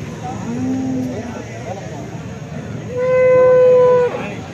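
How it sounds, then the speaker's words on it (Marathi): A pure HF cow moos loudly and close at a busy outdoor cattle market in Alephata, one drawn-out call near the end over crowd chatter and background noise. "ही देखील शेतकरी बांधवांची गाई आहे।"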